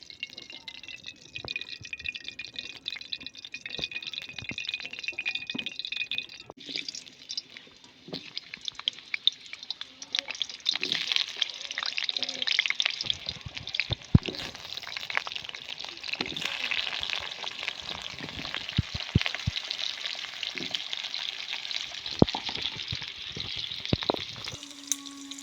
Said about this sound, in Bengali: এই যে কড়াই গরম হয়ে গেছে, আলু ভাজার জন্য তেল দিয়ে নেবো।